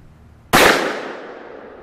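One sharp crack from a scoped 17 HMR rifle fired at a target during sighting-in, loud and sudden, with a reverberant tail that fades over about a second after a quiet lead-in.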